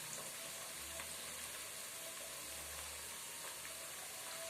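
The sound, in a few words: tamarind extract poured into a sizzling pan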